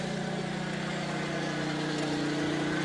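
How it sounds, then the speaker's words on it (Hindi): Mini tractor engine running at a steady, unchanging idle-like drone, continuous and close with a low hum and even vibration throughout, no voices. "इंजन का काम देखो आप, किस तरीके से जरा सी भी आवाज़ चेंज नहीं है।"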